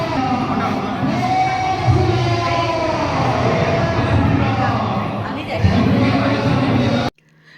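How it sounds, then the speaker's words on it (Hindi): A large crowd at a Diwali gathering makes a loud, dense murmur of many voices with nearby talking throughout, before the sound cuts off abruptly. "देखा जाए खाली भीड़"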